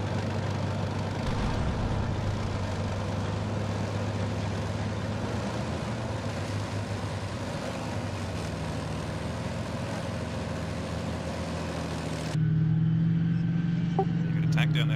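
A video game vehicle engine drones steadily and loudly, then drops after about twelve seconds to a quieter, lower hum with a steady tonal whine.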